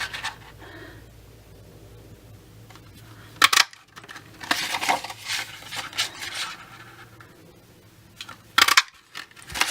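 A Petite Label Punch cutting shapes from cardstock gives sharp crunching clicks, a loud pair near the start and another near the end, with rustling paper handling in between.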